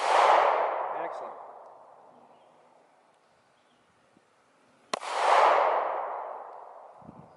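Two sharp gunshots ring out at a shooting lesson, each a loud crack followed by a long rolling echo, spaced a few seconds apart with quiet between them.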